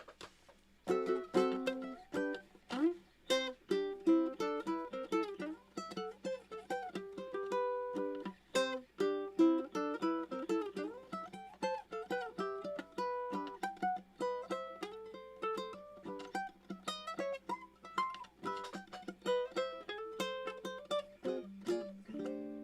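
A low-G ukulele picks the Super Mario main theme, each note sharply plucked and close. The bouncy melody runs steadily with short pauses between phrases and no talking.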